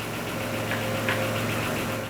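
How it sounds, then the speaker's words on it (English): A 2003-2007 Honda Accord engine idling steadily during power steering fluid bleeding, a continuous low hum with a faint knocking rhythm and mild vibration, no voices present. "Repeat the same procedure with the engine running now."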